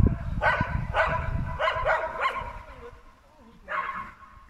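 Two dogs bark in a video game, several sharp bursts in a loose cluster early on and another near the end, fairly close, with low game noise and movement running underneath.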